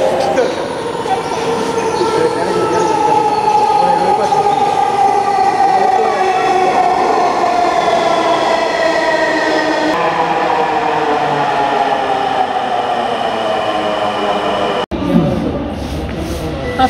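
Dhaka metro rail train running, heard from inside: a loud continuous rumble and rolling wheel noise with a long descending whine, steady throughout before a brief break near the end.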